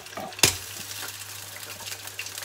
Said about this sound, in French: Là, je vais plonger les frites tout doucement. Bain d'huile qui n'est pas trop chaud.